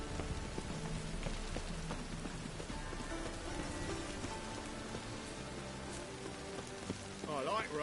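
Steady rain patters over a game world in The Witcher 3, a continuous wash of falling drops under music, with a faint swell near the end.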